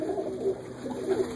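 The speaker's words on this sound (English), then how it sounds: "These are mostly older birds up here." Older pigeons coo in a breeding loft at night, with soft, low, rolling coos repeating close by in a dim, enclosed space.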